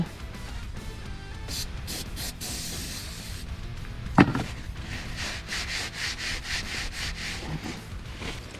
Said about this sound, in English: we're going to go ahead and clean up this top surface a little bit